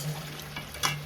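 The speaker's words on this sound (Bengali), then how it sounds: "মাংসটাও আমি কষাচ্ছি, ফ্লেমটা হাই করে দিই" Meat sautéing in a pan over a high flame gives a soft, brief sizzle with a light stirring scrape, quiet and close, over a low steady hum.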